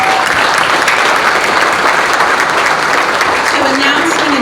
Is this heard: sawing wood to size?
no